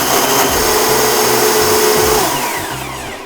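Blender crushing 2.5 cups of ice for frozen whipped lemonade, a loud, continuous grinding whir with rattling chunks that eases and softens near the end.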